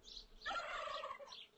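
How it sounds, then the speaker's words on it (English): A turkey on a farm gobbles in one loud, rapid warbling burst lasting about a second, with fainter calls just before and after. "This is a turkey."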